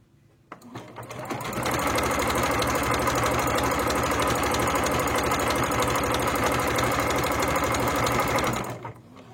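A sewing machine stitches a zigzag seam on thin scarf fabric, starting with a short whir and then holding a steady, loud, close mechanical hum for about seven seconds before stopping abruptly.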